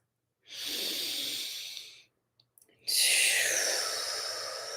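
Two slow, deep breaths taken during a calming nervous-system practice: a long inhale, a brief pause with small soft sounds, then a long breathy exhale, close and alone with no talk.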